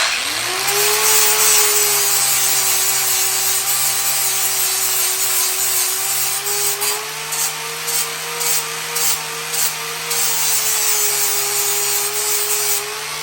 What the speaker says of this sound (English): I'm just using the polishing wheel since I'm just trying to put an angle on it so it sits in more.